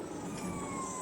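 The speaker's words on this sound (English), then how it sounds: "It is the ambulance, EMS." An ambulance siren wails steadily in the distance on a city street in Dallas, heard from an electric bike, a continuous tone that bends slightly upward over road and wind noise.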